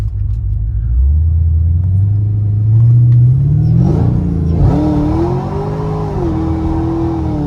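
A Whipple-supercharged fifth-generation Chevrolet Camaro engine revs up from a deep rumble to a rising roar, then holds a high whining drone with a rough edge as cold tires spin.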